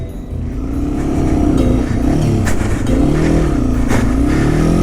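A Yamaha TW200 motorcycle engine revs loud and close while churning through a foot of deep snow after a storm, its pitch rising and falling in repeated surges.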